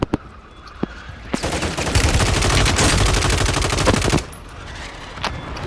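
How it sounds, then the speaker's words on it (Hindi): Bursts of automatic gunfire in a shooter video game, a few isolated shots and then a long sustained volley of rapid fire lasting about three seconds, loud and close, followed by scattered single shots. "पास गन है, मार रहा है।"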